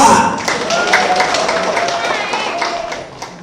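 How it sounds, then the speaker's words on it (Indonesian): An audience at a village head election event claps for candidate number 2, a dense, steady patter of many hands that fades slightly toward the end, with speech and crowd murmur mixed in. "Tepuk tangan untuk Bapak Andri nomor 2."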